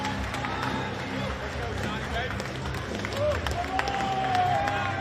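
A wrestling crowd at a GCW Bloodsport show keeps up a continuous roar of voices, with scattered claps and cheers. It swells slightly near the end, and a whistle-like tone rises above it.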